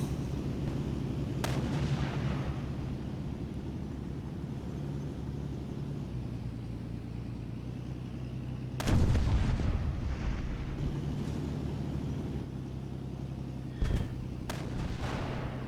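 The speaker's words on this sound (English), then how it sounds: "I like the guns, you know, they have their own distinct sound." Tank cannons fire in a tank-versus-tank combat game, with a few heavy, booming shots, one especially deep and resonant, over a steady low engine rumble and occasional sharper cracks.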